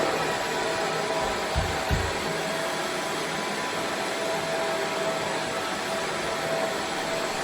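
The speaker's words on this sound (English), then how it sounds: "They use a vacuum to collect the dust created by the stone being cut." A shop vacuum runs steadily, pulling up dust while a stone countertop is cut for a kitchen installation, a constant close whooshing roar with a couple of brief low thumps near the start.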